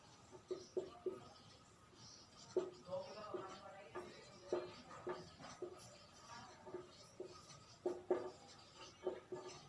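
Marker or chalk strokes on a classroom board come in short, irregular scratchy bursts at close range, with a faint voice in the background.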